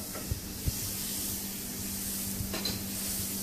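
Soft, steady sizzling hiss of knobs of butter in a frying pan, with a couple of faint clicks and a low background hum.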